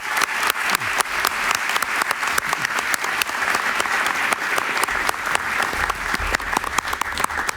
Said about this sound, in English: Give her a really warm round of applause.